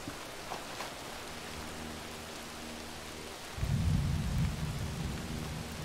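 Video-game rain falls in a steady hiss, then a deep rolling thunder rumble swells in a little past halfway and lingers loudly before easing.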